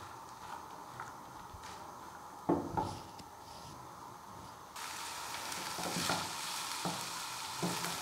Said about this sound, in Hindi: इनको मैं थोड़ा सा पकाऊंगी, इतना ज़्यादा नहीं, बस हल्का सा